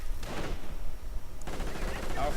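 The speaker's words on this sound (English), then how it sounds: "Heavy machine gun here, getting outmaneuvered by the Stormtroopers." Heavy machine gun fire from a WWI strategy video game: sustained rattling bursts mixed with other battle noise, loud and close, with a short lull in between.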